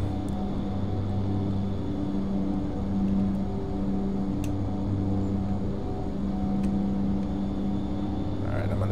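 An Aerosoft Twin Otter turboprop flies low and slow over bush terrain in Prepar3D, its engines and propellers holding a steady, unbroken drone with no pauses throughout.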